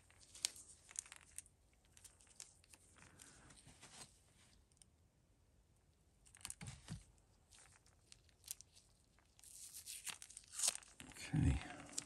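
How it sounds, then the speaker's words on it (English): Tape is peeled off a painted fishing lure in scattered crinkly tearing bursts, close and fairly quiet. The sound grows louder and rougher toward the end. "Get this tape off."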